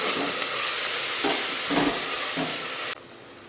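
Leafy greens frying in oil with tomato, a loud, steady hiss broken by a few stirring scrapes, cutting off abruptly to quiet near the end.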